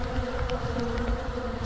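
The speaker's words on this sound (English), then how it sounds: "Look at these bees coming. They're expecting a free meal." Honeybees swarm around a hive during robbing, making a dense, continuous buzzing drone close by that holds steady the whole time, with no voices.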